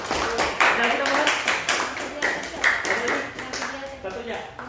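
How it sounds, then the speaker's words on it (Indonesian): A classroom full of people applauds, dense steady clapping throughout with a few swells, voices mixed faintly into the crowd noise. "Tepuk tangan untuk kelompok 2."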